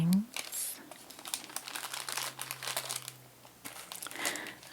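Leftover plastic party bags crinkle and rustle close up as they are packed away with Halloween decorations, a continuous soft crackling with a softly spoken voice underneath.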